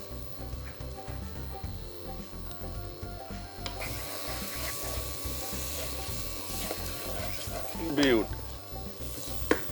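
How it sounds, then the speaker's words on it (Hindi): Tomatoes drop into spices roasting in a pan, bringing a loud continuous sizzle with stirring scrapes and a brief louder burst of frying partway through, no talk over it. "मसाले को हल्का सा भूना। अब डाल दिया टमाटर।"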